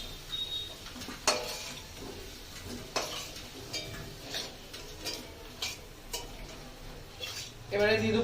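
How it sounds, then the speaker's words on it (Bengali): Fried potatoes are lifted out of a pan while cooking potol curry, with sporadic metal clinks and taps of a utensil against the pan over a low background hiss. "তো আমার আলুগুলো ভাজা হয়ে গেছে, এবার আমি তুলে নেবো।"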